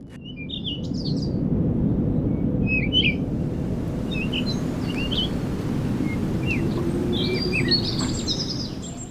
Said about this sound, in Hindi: छोटी छोटी चिड़ियां पहले बोलती हैं